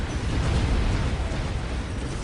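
Big guns of the Imperial Guard open fire in Dawn of War: Soulstorm, a dense, loud, continuous rumble of blasts with no pause over about two seconds.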